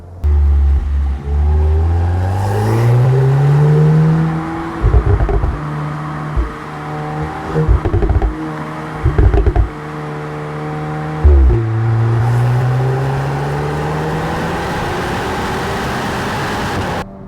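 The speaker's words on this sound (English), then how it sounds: "I'll let you show you the exhaust sound now." A Volkswagen Golf R Mk8 engine revs up and down several times with throaty exhaust bursts and a few sharp pops, then settles back to a loud steady idle.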